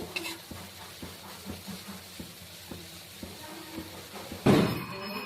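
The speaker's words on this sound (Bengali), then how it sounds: "বড়াগুলোকে উল্টে পাল্টে ভেজে নিব" Palm fruit fritters sizzle softly in oil with a low continuous fizz, dotted by small regular clinks, then a brief louder crackling burst near the end.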